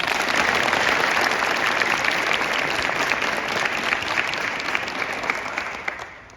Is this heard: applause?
yes